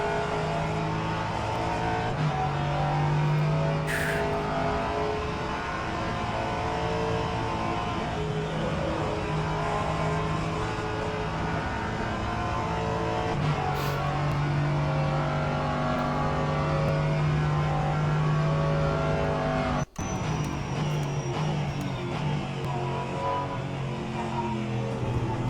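An LMP3 prototype race car's engine holds full throttle in rFactor 2 at Thruxton, a loud, steady close-up drone with brief pitch shifts at gear changes and one sharp click near the end, no voices.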